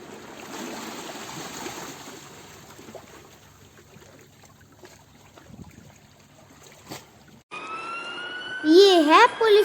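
Low, quiet ambient rumble gives way near the end to a police car siren, whose loud, rising-and-falling wails sweep up and down over the last couple of seconds.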